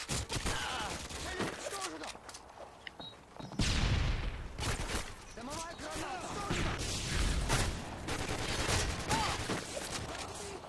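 Chaotic shotgun gunfire in Modern Warfare 2 online multiplayer, with repeated loud blasts and bursts of shots in quick succession amid other battle noise, and a voice talking over parts of it.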